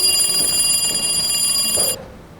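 A cell phone rings loudly and steadily with a bright electronic trilling tone during a school stage performance of It's a Wonderful Life, then cuts off abruptly.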